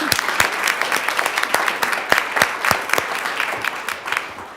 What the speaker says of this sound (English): we'll applaud for you fine as a group